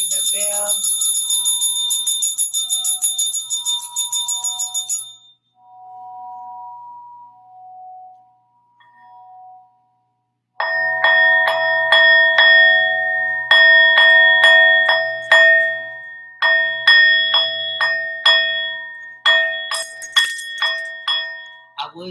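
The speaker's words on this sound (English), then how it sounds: "we're gonna go ahead and ring the bell." A bell is rung several times, each clear metallic strike ringing out and decaying. A bright, rapid jingling precedes the struck tones.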